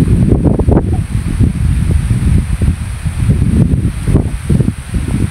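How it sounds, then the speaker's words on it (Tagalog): Strong wind buffets loudly in gusts on a farm, low rumbling roar with rustling, rising and falling throughout. "Lakas ng hangin."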